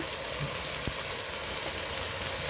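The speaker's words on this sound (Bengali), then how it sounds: "মশলাটাকে এখন সুন্দর করে একটু কষিয়ে নিচ্ছে" Ground turmeric, chili, cumin, coriander and garam masala frying in a pan over a clay stove for chicken curry, a steady close hiss of sizzling with one brief scrape of stirring, no voices.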